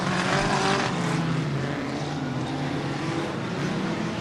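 Hot rod race cars at Wimbledon in 1977 roar past with a loud, continuous engine drone that swells and fades slightly as the cars lap the track.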